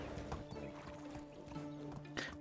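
Horse hooves clip-clop in the medieval survival game Medieval Dynasty, a faint steady walking rhythm of soft hoofbeats with a low background hum and no talk.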